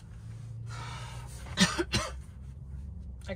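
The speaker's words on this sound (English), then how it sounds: "I cough. Maybe it's the flu." A sick person camping alone in a van gives a couple of short, close coughs and throat clears in the middle, set against a quiet, low background hum.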